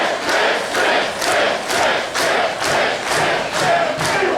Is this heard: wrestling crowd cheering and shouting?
yes